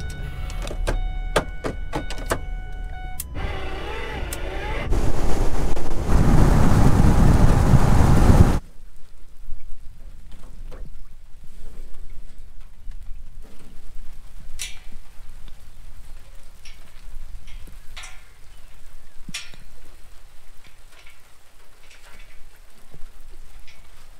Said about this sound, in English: hopefully there'll be a break in the rain